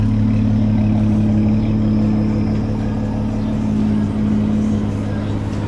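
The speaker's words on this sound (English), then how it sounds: "If you can hear that exhaust," Exhaust of a 2010 Dodge Charger SXT, a steady, loud low rumble idling close by with a constant droning tone and no revving.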